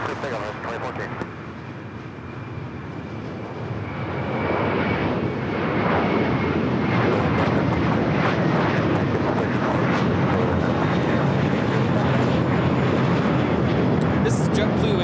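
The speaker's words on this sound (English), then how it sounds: "This is JetBlue 1874 taking off to Newark on the A321 MINT." A JetBlue Airbus A321 takes off from runway 25 right at LAX, its jet engines a steady broadband roar that swells after a few seconds and stays loud and sustained to the end.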